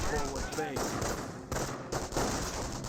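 MG42 machine gun firing inside the game Company of Heroes, rapid bursts of gunfire mixed under a commentator's continuous talk, with brief gaps between the bursts.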